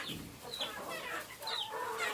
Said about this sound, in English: there's a few chickens in here that look a bit posh